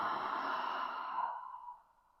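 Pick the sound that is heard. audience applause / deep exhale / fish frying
deep exhale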